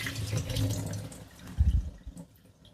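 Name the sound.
draining soaking water from dates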